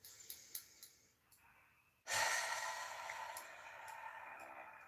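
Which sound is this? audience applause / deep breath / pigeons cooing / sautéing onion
deep breath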